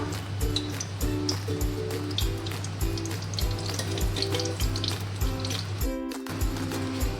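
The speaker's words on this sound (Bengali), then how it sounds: "এই সরপুটি মাছগুলো হালকা ভেজে নেব" Sarpunti fish fry in oil in a frying pan, giving a continuous close sizzle with a regular thumping beat running underneath.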